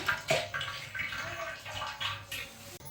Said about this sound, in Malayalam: അപ്പം പാത്രം ചൂടായി ഞാൻ അതിലേക്ക് ഈ പാൽ ഒഴിക്കുകയാണ്